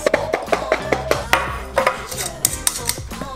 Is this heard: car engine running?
no